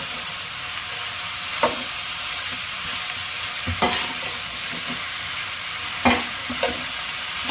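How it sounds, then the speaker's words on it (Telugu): Ridge gourd pieces fry with onions in a pan, giving a steady, loud sizzle throughout, broken by a few sharp scraping stirs. "ఉల్లిపాయ వేగిన తర్వాత బీరకాయ ముక్కలు అయితే వేసుకున్నామండి. వేసుకున్న తర్వాత బాగా మగ్గాలి"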